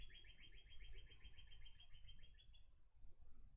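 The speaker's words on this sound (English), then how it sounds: "The bird is nuts, man. It's driving me berserk." Small bird chirping nearby during an online classical chess simul, with a rapid series of high, bright chirps over a low background rumble, fairly faint, with no talking.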